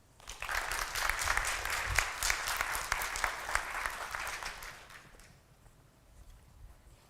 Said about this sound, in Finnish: Annetaan Tuulille isot aplodit.